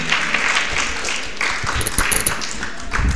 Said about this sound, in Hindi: जोरदार ताली बजाकर हम उनका स्वागत करेंगे।